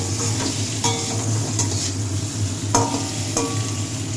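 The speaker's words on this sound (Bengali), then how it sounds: "পটলগুলো ভাজা ভাজা হয়ে গেছে।" Pointed gourd (potol) fries in a pan with a dense, steady sizzle and crackle close by. A few metallic clinks of a spatula or the pan break through the sizzle. No speech.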